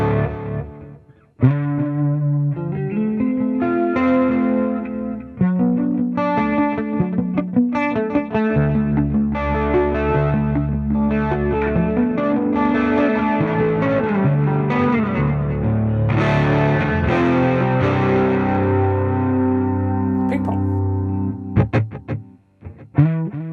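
Distorted electric guitar played through a ToneX amp modeler with a delay effect, chords and single-note lines ringing continuously with echoing repeats trailing each phrase, loud and close for over twenty seconds, no talking.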